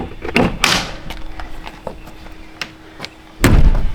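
The door of an RV built from a box truck camper swings shut, making a sharp slam up close at the start and another heavy thud at the end, with small clicks and rattles between and no voices.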